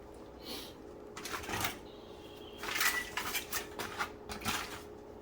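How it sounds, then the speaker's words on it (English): Metal pot clanking onto a stovetop and olive oil being poured in while cooking fish stew: several sharp clatters and scrapes in uneven bursts, fairly close and moderate in level, with a faint hum underneath. "You put a pot in, turn on the flame, and put some oil in it."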